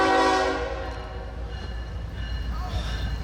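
A CSX freight train with a distributed power unit passes through a rural small town, its horn blaring loudly for about half a second before fading into a steady rumble of rolling cars.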